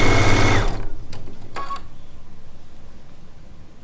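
A sewing machine stitching quilt charm pack units runs loud and fast, then slows into a rhythmic fading chug with a couple of light clicks, no voices.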